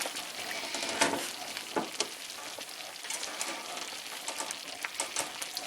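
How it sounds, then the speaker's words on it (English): Orange gravy bubbling and splattering in a pot on the stove, a dense steady sizzle with frequent sharp pops and spits close by. "It's a little bit too much, so I'm getting some splatter, so I'm going to turn her down."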